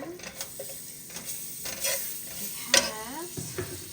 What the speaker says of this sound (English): And we're going to put the butter in